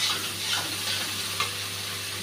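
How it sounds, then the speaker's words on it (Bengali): Spice paste fries in a hot pan for a fish curry with potatoes and ridge gourd, a steady close sizzle broken by a few soft scraping stirs, with no talking. "মশলাটা ভাজা হয়ে গেছে ভালোভাবে"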